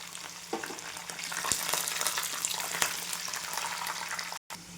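Peanuts frying in hot oil for a breakfast made from leftover chapati and rice, a close, steady sizzle and crackle with scattered pops and a brief dropout near the end.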